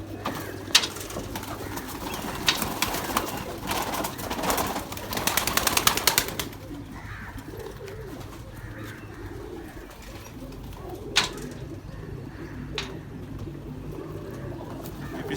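Pigeons coo continuously in a low murmur, with scattered rustles and a louder flurry of flapping and shuffling before it settles to steady cooing.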